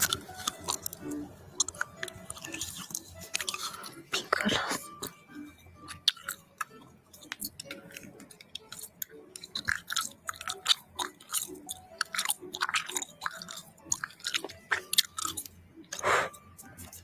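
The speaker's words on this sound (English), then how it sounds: "Chewing bubblegum has become a form of entertainment." Bubblegum chewed close to a sensitive microphone in ASMR style, with wet smacks, clicks and pops in an irregular, continuous rhythm and no voice.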